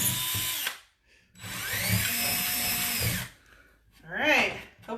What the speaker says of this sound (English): And then I'm going to go ahead and drill my hole out.